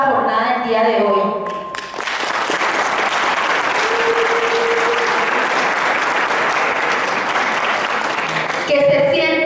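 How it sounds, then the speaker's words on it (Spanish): An audience applauding at the closing session of a public tribunal on mining, a loud, sustained burst of clapping rising after a voice and lasting several seconds before speech resumes. "recibamos con un fuerte aplauso la jornada del día de hoy."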